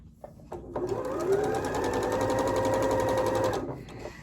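A sewing machine stitches quilt fabric pieces together in one continuous fast run of rapid even needle strokes, loud and close, starting and stopping cleanly after a few seconds.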